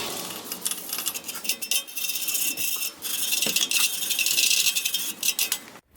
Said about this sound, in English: I'm just going to use a wire brush to clean everything off as best as I can.